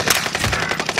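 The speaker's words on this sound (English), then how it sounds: "Oh, I got sniped from the right." Close gunfire in a first-person shooter video game sounds as a rapid string of sharp, loud reports in quick succession over about a second, with no talking.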